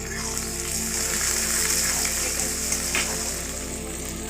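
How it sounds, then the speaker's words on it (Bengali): Seven or eight slit green chillies drop into a pan of frying onions for jackfruit curry, raising a loud, dense, steady sizzle throughout, close up, with a faint low hum underneath. "এবার আমি লঙ্কা চিড়ে রেখেছিলাম 7-8টা মতন, সেটা দিয়ে দিচ্ছি"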